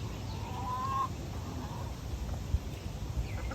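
Hens cluck softly in an outdoor pen, with a short, faint rise of fowl calls against a steady background hum.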